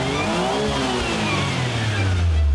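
A tiny Mazda Autozam AZ-1 kei sports car with a 64-horsepower engine revs up close and loud, its pitch climbing steadily over a couple of seconds.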